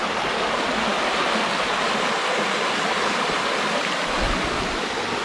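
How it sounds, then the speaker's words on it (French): A small river in Savoie flowing beside a campsite, a steady, dense rush of water close by, unbroken and without voices. "La belle petite rivière qui se promène à côté de nous."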